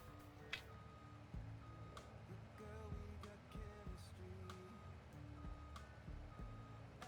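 Vehicle reversing alarm in Farming Simulator 22, a steady run of evenly spaced beeps over a low engine rumble, fairly faint and without speech.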